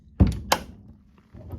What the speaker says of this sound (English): It takes such force to shut the door.